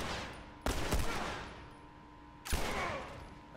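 Two sharp gunshots from The Last of Us, spaced about two seconds apart, each a loud broadband crack with a trailing echo over a quiet ambient hum.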